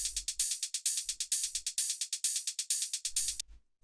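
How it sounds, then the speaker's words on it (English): Two hi-hat samples from an acid techno track, open and closed, tick in a fast even pattern of bright crisp hits with a low kick pulse beneath, stopping abruptly near the end. "these 2 hi-hats, which sound like this"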